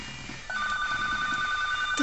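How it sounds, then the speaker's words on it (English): A telephone rings during a makeup session, its bell tone starting about halfway through and holding steadily, close and clear above a quiet room. "The phone again!"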